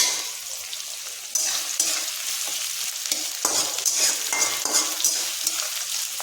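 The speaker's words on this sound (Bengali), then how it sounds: "বাস পেঁয়াজটাকে হালকা ভাজা হোক" Sliced onion sizzles lightly in oil in a pan for a lauki curry and dal, a steady close frying hiss with a few soft stirring scrapes and no voices.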